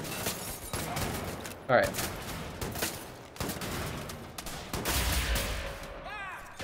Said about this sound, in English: Let's kill as many of them as we can with our pistol.